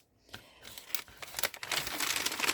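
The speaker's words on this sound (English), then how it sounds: "if noise of crimpling and crumpling bags bothers you, you want to turn down your sound now." Crinkling and crumpling of paper bags being folded by hand, close and fairly loud, with irregular rustles and crackles that build in density over a few seconds.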